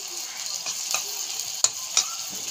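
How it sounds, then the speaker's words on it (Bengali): Small fish frying with onion and tomato in a pan, a steady close sizzle broken by a few sharp scrapes and clicks as the mixture is stirred. "এবারে আমার নাড়াচাড়া করতে হবে মাছগুলো, যেমন পেঁয়াজ টমেটো এইটার সঙ্গে যেন মিশে যায়।"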